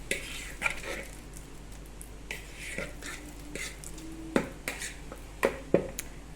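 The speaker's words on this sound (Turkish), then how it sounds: "Çok olgun olduğu için ben hemen çatalla ezmek istedim." A fork mashes a very ripe banana in a bowl for a chocolate banana cake, giving scattered soft squishes and sharp clicks of metal tapping the dish, irregular and close up.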